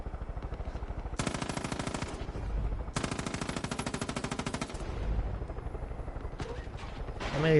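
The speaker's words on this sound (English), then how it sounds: "Some of these guys are heavy gunners. You can probably tell by the sound of their guns." Heavy gunners' machine guns fire in Far Cry 5, two long sustained bursts of rapid, loud automatic fire separated by a short pause, followed by scattered shots and clatter.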